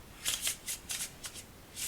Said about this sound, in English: So you get the regular shuffle like that, and then you pick it up, fold,